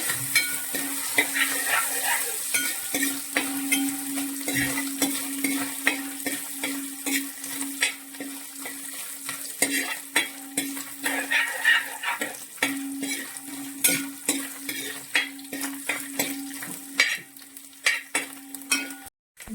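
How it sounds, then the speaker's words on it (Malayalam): Coconut pieces fry in oil in a pan while preparing a Kerala-style beef fry, a steady close sizzle broken by frequent scraping stirs and clinks of the spatula, with no talking. "തേങ്ങാക്കൊത്ത് മൂത്ത് വരുന്നുണ്ട്."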